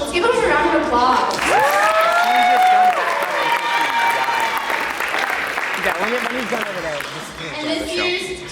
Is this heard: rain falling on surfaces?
no